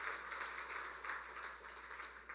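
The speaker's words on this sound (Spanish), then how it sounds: "Démosle palmas al Señor" Congregation applauding together during a Spanish-language church service, a steady, even wash of many hands clapping at moderate distance with no one speaking over it.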